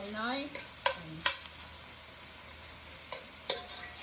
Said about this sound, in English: I can feel them kind of sticking to the bottom a little bit, where that's where all the flavor is. I'm going to keep stirring it.